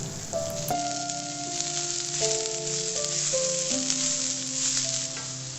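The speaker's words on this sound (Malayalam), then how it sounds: "ഇനിയിപ്പം നമുക്ക് ഉള്ളി ചേർത്തിട്ട് നന്നായിട്ട് വഴറ്റി കൊടുക്കാം" Onions sauté in oil for a soya chunks dry fry, giving a constant bright sizzle that continues under a clear, stepping instrumental melody.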